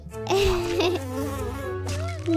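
Flies buzz loudly in a children's spider video game, with a wavering tonal drone that swells and dips over a steady low background hum.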